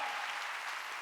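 Steady applause from a church congregation during a Sunday service fills the whole moment, a dense wash of clapping with no gaps.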